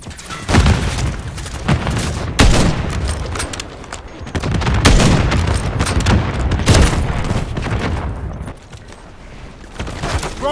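Call of Duty MW3 firefight on the Rust map: dense, loud bursts of rapid gunfire and booming grenade explosions overlap continuously, with a brief lull near the end before shooting resumes.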